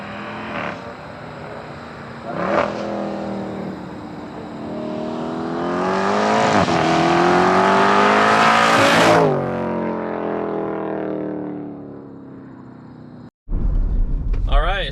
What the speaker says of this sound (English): I'll do a drive-by of just flooring it all the way down and see how it sounds